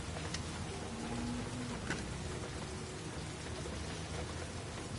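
Steady rain hisses through a stormy scene in the PlayStation 4 game Heavy Rain, a dense continuous wash of falling water with a couple of faint sharp ticks and a low rumble beneath, no voices.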